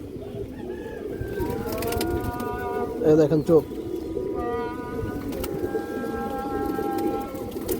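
Domestic fancy pigeons coo in low rolling bursts, with a louder close coo midway, while someone talks over them throughout.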